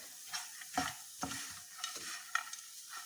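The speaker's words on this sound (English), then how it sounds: "Stir it very well" A spoon scrapes and stirs a crumbly mixture of crushed wheat biscuits and roasted dry fruits in a pan, irregular soft scraping strokes with a faint sizzle, close and quiet with no talking.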